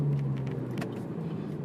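A 2013 Chevrolet Camaro V6 engine downshifts, giving a steady low rumble with a brief rise in revs, heard from inside the car with no talk.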